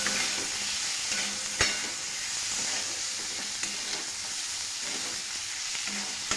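Mixed vegetables for Maharashtrian bhogichi bhaji sizzle steadily in a pan while being stirred, a continuous close frying hiss with occasional clinks and scrapes of the spoon, no voices.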